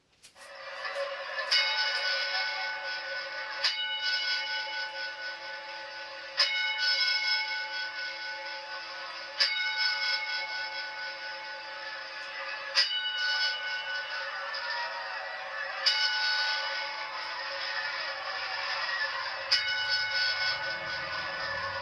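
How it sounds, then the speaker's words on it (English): The Price Is Right game show's ten-bell salute: a bright electronic bell chime struck repeatedly at regular intervals of about three seconds, loud and sustained, with a low rumble near the end. "Now the 10-bell salute."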